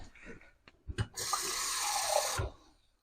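A short burst of water pours steadily into a cooking pot for about a second, preceded by a few soft clinks and thumps nearby.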